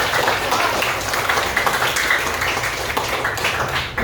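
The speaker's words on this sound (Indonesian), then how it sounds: "tepuk tangan untuk kita semua sekali lagi" Children in a sixth-grade classroom clap together in steady, dense applause that fills the room evenly from start to finish with no voices over it.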